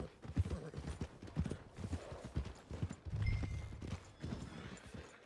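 Horse hooves clip-clop in a steady walking rhythm in a Western video game, fairly close, with a brief whinny and game ambience around them.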